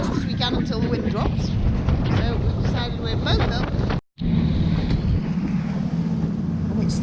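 Strong, steady wind buffets the microphone aboard a fast racing multihull sailboat during a two-handed round Britain and Ireland race, a constant loud roar with rushing water beneath and a brief dropout midway.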